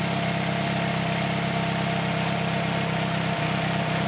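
A cross kart engine fitted with a new oil cooler runs at a steady idle, a continuous close rumble with an even drone that holds for the whole stretch without any talk.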